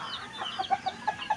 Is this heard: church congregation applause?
no